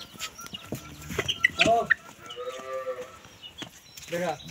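A Holstein Friesian dairy cow lows once in a short, drawn-out moo among other farm animals, with hens clucking close by and faint voices in the background.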